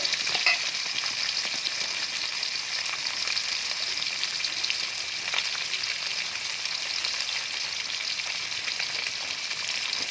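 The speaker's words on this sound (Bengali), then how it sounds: "দেখো মাছগুলো প্রায় ভাজা হয়ে এসেছে।" Steady, crackling sizzle of amudi fish frying in hot oil, continuous and fairly close, with a faint clink early on and no voices.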